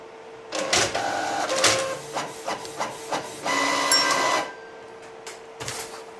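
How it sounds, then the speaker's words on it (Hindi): A Canon PIXMA E477 inkjet printer prints a sample page, with close mechanical whirring, clicks and several bursts of carriage and paper-feed motion, ending in quieter clunks. "तो अभी मैं एक सैम्पल फाइल प्रिंट करूँगा।"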